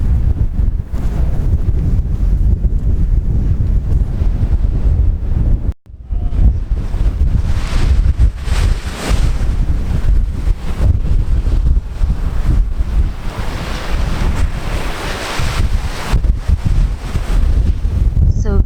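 Strong wind buffets the microphone on a Shetland beach near Scalloway, a loud continuous roar with gusting surges and surf behind it, briefly cutting out once before blowing on steadily.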